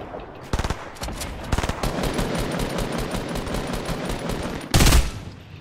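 Rapid bursts of gunfire in Fortnite, with short volleys early on, dense continuous shooting through the middle and a loud final burst near the end.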